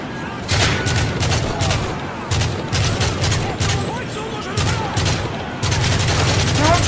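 Sustained machine gun fire in Modern Warfare 3 Survival Mode, loud rapid bursts rolling nearly nonstop with brief gaps, overlapping blasts and explosions, while players talk over it.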